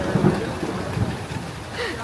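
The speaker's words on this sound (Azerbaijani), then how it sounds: "Yağış başladı, ildırım çaxır" Steady rain with a low distant rumble of thunder during a Florida thunderstorm, a continuous wash of noise with no speech.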